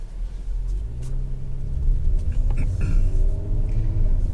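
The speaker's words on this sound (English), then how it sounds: "right as soon as you let off the brake, you can hear the turbo spool up" Kia Stinger GT fitted with BMS intakes pulling away off the brake, a deep engine rumble building with a rising turbo spool whistle over about four seconds, close and fairly loud.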